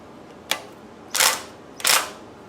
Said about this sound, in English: Life is a lot easier when you have that little impact wrench